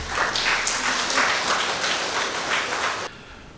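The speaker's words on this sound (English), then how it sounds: "Please give a big round of applause" Audience applause at a spiritual gathering, a dense, steady wash of many hands clapping close by that drops off suddenly near the end.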